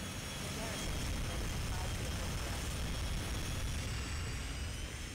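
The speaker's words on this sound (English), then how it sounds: "Hey, planes, come here." Aircraft engines drone in the mecha combat game Armored Core, a steady loud jet-like roar holding level throughout while game tones ring faintly above.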